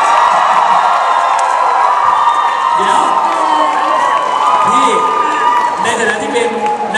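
A large concert crowd screams and cheers loudly and continuously, high-pitched shrieks blending into a sustained roar.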